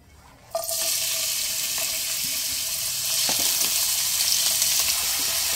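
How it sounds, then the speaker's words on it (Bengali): Onions go into hot oil with bay leaf and whole spices for mutton haleem, giving a sudden burst of loud, hissing sizzle that holds steady, with faint stirring scrapes and no talking. "মিডিয়াম ফ্লেমে পেঁয়াজ গোল্ডেন করে ভেজে নেব"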